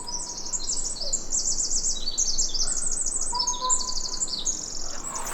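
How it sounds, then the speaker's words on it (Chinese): Many birds calling and chirping in a quiet outdoor spot near Tofino, with repeated high, bright trills and tweets layered over one another at a moderate distance against a soft, steady background hum. "这个地方有超级多鸟叫"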